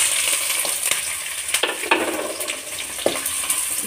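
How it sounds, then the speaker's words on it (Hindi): Capsicum and onion frying lightly in a little rice bran oil for fried rice, a steady loud sizzle with a few sharp utensil scrapes and taps, no voices. "हो गई है हल्की फ्राई शिमला मिर्च और प्याज"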